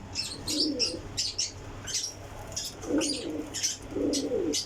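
Several pigeons cooing close by in repeated low, throaty bursts spaced about a second apart, mixed with sharp chirps and brief wing flutters, and no voices.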